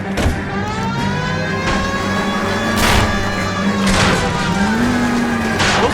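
Car engine and tire noise from an L.A. Noire video game chase, as a car skids and crashes through backyards, with a steady loud roar and rising engine pitch and several sharp impact bursts.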